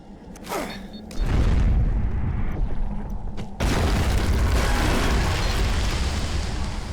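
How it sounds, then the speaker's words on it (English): A spike grenade in the video game Fracture erupts into a column of molten rock, a deep booming rumble that swells after a sharp onset and keeps roaring loudly for several seconds. "They create a column of molten rock and can be used to lift objects."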